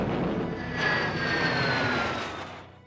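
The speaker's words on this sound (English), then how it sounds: "Soviet-built MiG-15s fly into action for the very first time." Soviet MiG-15 jet fighter flying in the Korean War era, a loud roaring jet rush with a whining engine tone swelling and then fading as it passes, heard alone without talk.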